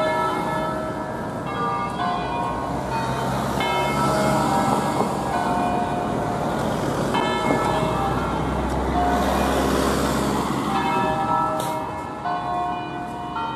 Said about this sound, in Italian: Se sta a fermare la campana